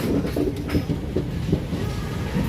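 A passenger train arriving at Secunderabad runs on its rails with a steady low rumble and faint rhythmic wheel clatter, close and continuous throughout.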